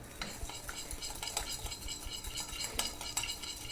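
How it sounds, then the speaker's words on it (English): A spoon stirs a lime juice vinaigrette with dissolving sugar in a bowl, a steady swishing with soft scrapes and light clinks close by, continuous for a few seconds with no talking. "And I'm just going to give this a stir."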